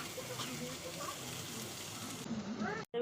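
Vegetables for chow mein fry in a pan with a soft, steady hiss, faint and continuous, with a voice speaking over it near the end.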